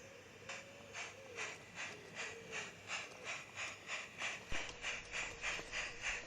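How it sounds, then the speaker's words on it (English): Light railway train shunting at Beeston Castle station gives a steady series of rhythmic, evenly spaced hissing puffs, moderately distant and faint, with a sharp clank partway through. "At Beeston Castle, Station Master Herbert Williamson greets the arrival of the train and supervises shunting operations."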